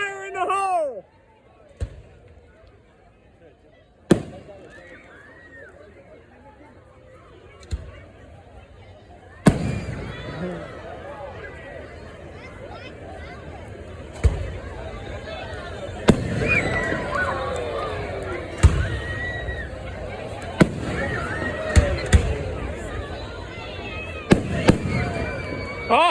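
Fourth of July fireworks at a neighborhood street party, with sharp bangs and pops going off repeatedly, some near and loud, others more distant, over a steady crackle and the murmur of a crowd.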